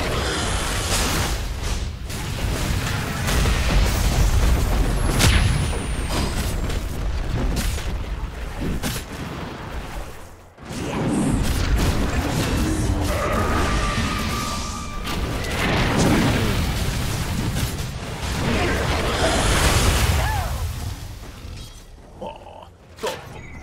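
Dota 2 tower under siege: continuous booming impacts, crashes and spell blasts roll on for the whole stretch, loud and dense, with a brief lull midway before the battle noise resumes.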